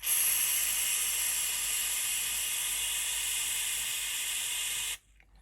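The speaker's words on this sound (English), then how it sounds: "So I'm just going to spray it into the bottle top." Tyre glue hisses out of a spray can into a bottle top in one steady, continuous burst lasting about five seconds, then cuts off abruptly, leaving near silence.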